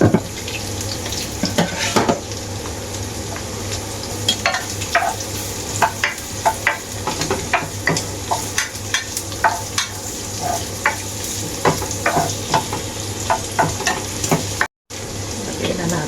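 Garlic and onion sizzle steadily in a hot pan, with a continuous frying hiss broken by repeated scraping and stirring clatter of a utensil against the pan.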